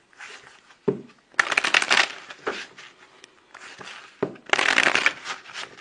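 Tarot cards are shuffled by hand in several quick, crisp riffling bursts separated by short pauses. The sound is close and clear, with no talking.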